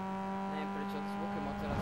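A car engine in the racing video game NFS Underground 2 drones with a steady, sustained tone for a couple of seconds.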